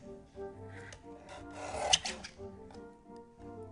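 A paper panel for a handmade light-up Halloween card being trimmed, heard as soft, close scraping and rasping strokes that build to a brief peak midway, with no talking.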